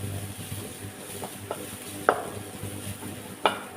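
Onions sauté with crushed garlic, fennel and cumin in a pan, a soft low sizzle under gentle spoon stirring with a few sharp scraping knocks against the pan.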